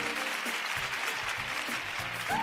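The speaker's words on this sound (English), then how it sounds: "Can we please give a round of applause as he comes to the front, Stephen Olusa." Continuous applause from a conference audience at Nigeria Fintech Week 2025, a dense patter of clapping with some voices faintly mixed in.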